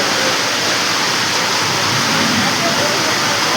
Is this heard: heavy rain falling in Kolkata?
yes